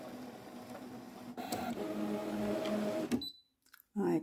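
Electronic cutting machine scoring lines with an embossing tool, a quiet motorized whirring with faint clicks as the carriage moves, stopping abruptly near the end before a brief mechanical sound returns.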